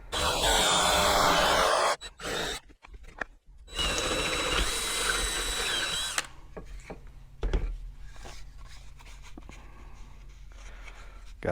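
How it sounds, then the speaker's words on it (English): A drill with a 28 mm Forstner bit boring into a wooden cutting board whirs loudly for a few seconds, pauses, then bores again with a steady high whine before winding down into scattered clicks and scraping. "I got a 28 mil Forstner bit kind of chucked up in the drill"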